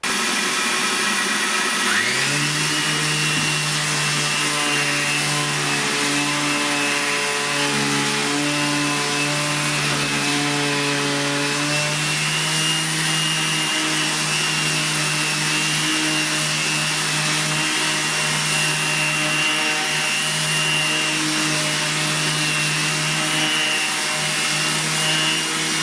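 A Makita 18V DBO380 cordless sheet sander runs on an unclamped piece of wood, its loud, steady buzzing hum starting up and holding for over twenty seconds with slight pitch shifts under load and no talking.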